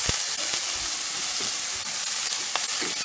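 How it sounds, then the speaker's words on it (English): Onions, green chilies and curry leaves sizzle and fry in hot oil for a Hyderabad-style chicken curry, a steady, loud, close hiss with faint stirring clicks and no talk. "I love the sizzle."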